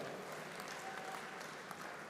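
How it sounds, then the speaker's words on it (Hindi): Audience at a political party representatives' gathering clapping steadily, a dense, even patter of applause heard from some distance without voices on top. "आप लोग ताली बजा रहे हो"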